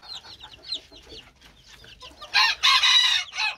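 Chickens in a poultry coop being vaccinated give quick, repeated clucks, then a louder, longer squawking burst near the end. The birds are close and clear, with no talk over them.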